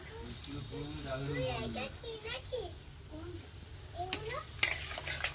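Vegetable curry with drumsticks and lentil dumplings being stirred in a pot after lentil water goes in, a soft bubbling sizzle with a few metallic clinks of a spoon against the pot, under a woman's speech.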